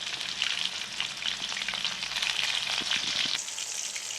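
Fish pieces frying in hot oil for fish biryani, turned over on all sides: a loud, dense, continuous sizzle close up, with a few soft knocks of the turning utensil.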